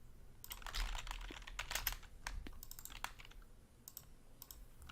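Quiet, rapid typing on a computer keyboard at a trading desk, irregular bursts of light key clicks with brief pauses, faint and close, with no talking.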